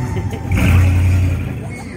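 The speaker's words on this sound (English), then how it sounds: "Now Frankie's leaving in his Ford." Ford car pulling away at night, its engine swelling to a mid-pitched rumble partway through, then fading slightly as it leaves, with no voices over it.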